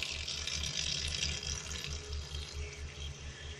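Water pours steadily from a tap into a container of kamias fruit to soak them for jam. A close, continuous splashing stream runs throughout, with a low rhythmic pulse underneath.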